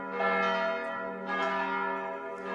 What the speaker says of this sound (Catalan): el campanar des d'on sonen aquestes campanes té 8 campanes